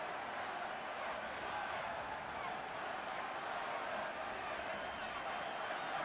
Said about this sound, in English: The Utah portion of the crowd continues to chant undefeated